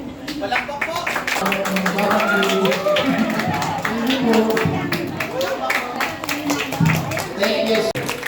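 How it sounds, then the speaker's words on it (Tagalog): An audience claps in scattered bursts, running steadily under continuous talking voices throughout. "Come on everybody, malakas muna ng palakpakan."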